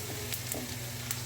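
Garlic frying in a pan for masoor dal tempering gives off a close, steady crackling sizzle that continues without pause.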